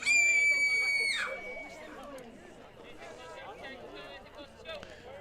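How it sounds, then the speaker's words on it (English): A played scream sound effect at a varsity high school baseball game rings out loud at first, then fades into crowd chatter and general ballpark noise. "Another sound effect scream if you're concerned at home."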